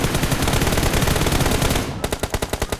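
Automatic gunfire in a first-person shooter video game: a dense, continuous roar of rapid shots that drops to a distinct stuttering burst of evenly spaced rounds, loud and close, with no talking.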